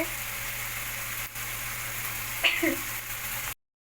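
Spice paste frying in oil gives a steady close sizzle throughout, broken by a brief stir and a short clatter before it cuts off.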